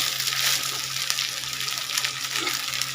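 Mixed vegetables frying in a pan give a continuous sizzle under a faint hum, with brief scraping knocks as they are stirred. No one speaks.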